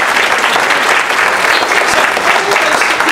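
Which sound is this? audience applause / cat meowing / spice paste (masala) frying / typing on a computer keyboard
audience applause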